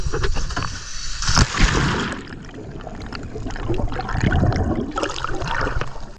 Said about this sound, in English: I roll back into the water.